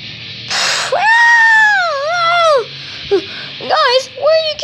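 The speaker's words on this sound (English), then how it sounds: "Sounds like Chica screaming now." A shrill, wavering scream from the Chica character in the Five Nights at Freddy's game rises and bends over a couple of seconds, loud and close, followed by shorter yelping cries.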